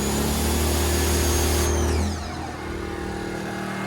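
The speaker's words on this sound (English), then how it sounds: "the generator doesn't have to stay that way, blowing the smoke in the vehicle" Portable generator running for mobile car detailing, a loud steady engine hum with tonal whine that drops and shifts midway, then settles into a lower continuous drone nearby.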